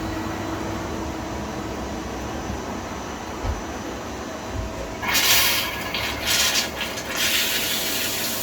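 A CNC lathe's parting-off tool cuts retaining rings under coolant, with a steady machine hum and liquid wash that swells into louder hissing, splashing bursts near the end.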